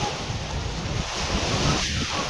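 Steady roar of sea surf washing onto the shore at Rameswaram where people are bathing, continuous and fairly loud, with wind buffeting the microphone throughout.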